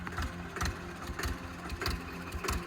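A tractor engine runs nearby, chugging in a steady rhythm with regular heavy thumps about every half second.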